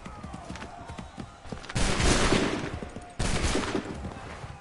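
Musket volleys in Assassin's Creed 3 Remastered, loud crackling bursts of massed gunfire erupting twice over a low battlefield rumble, each volley rolling out for about a second or more.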